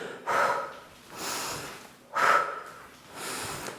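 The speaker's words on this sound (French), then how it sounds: "inspirez, soufflez" Rhythmic breathing during a chair-based muscle-strengthening ballet workout, two audible inhale-exhale cycles close to the microphone, with forceful airy breaths alternating with softer ones.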